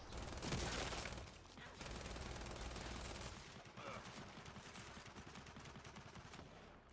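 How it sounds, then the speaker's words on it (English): Gears 5 relic grenade launcher alternate fire in a video game: dense, loud bursts of weapon fire and blasts rolling on continuously for several seconds. "The GL, or the grenade, fires straight along the targeting laser, bursting when it hits an enemy or is close to one."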